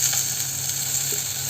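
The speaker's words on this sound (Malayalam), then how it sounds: "നേരത്തെ അരിഞ്ഞു വെച്ചിരിക്കുന്ന തക്കാളി ഉണ്ടല്ലോ, അതും കൂടെ ചേർത്തിട്ട് നന്നായിട്ടൊന്ന് വഴറ്റിയെടുക്കണം നമുക്ക്." Sliced onions and tomatoes saute in a pan for a Thrissur-style sardine curry, a steady, even hiss of sizzling oil with no stirring or talk over the short stretch.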